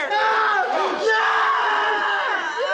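A man screams loudly and continuously in the 1985 film The Return of the Living Dead, his strained cries rising and falling over a busy, noisy background.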